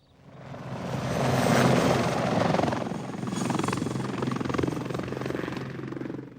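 An army helicopter flying over the Northern Ireland border countryside, its rotor chop and engine roar swelling in from quiet, peaking loud and close, then holding steady as it passes overhead.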